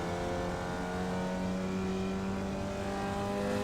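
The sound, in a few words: Formula Vee car engine and gear change in iRacing video game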